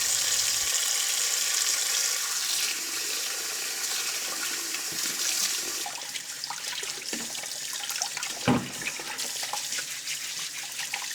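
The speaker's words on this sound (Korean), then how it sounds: "친환경이나 유기농이 아니더라도 베이킹소다로 5분 정도 담궈주고 여러 번 헹궈주면 고구마나 야채들이 더욱 반짝반짝하게 변신할 거예요" Vegetables and Haenam purple sweet potatoes are rinsed in water after a baking-soda soak, a steady close splashing and trickling like a running tap, with a sharper slosh near the end and no voices.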